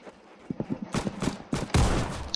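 Gun from the game Arsenal firing, a few loud bursts of gunfire with some sharper, heavier shots toward the end, mixed with game effects and faint voices.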